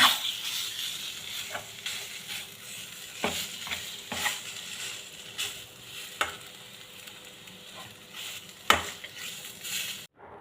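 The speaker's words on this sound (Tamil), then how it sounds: "இந்த கோதுமாவும் பாசிப்பருப்பும் ஒன்றா நல்லா மிக்ஸ் பண்ணிக்கலாம்." Wheat flour and moong dal are mixed together in a pan for Ashoka halwa, giving soft, dry scraping and stirring strokes at close range with occasional sharper taps of the spoon against the pan.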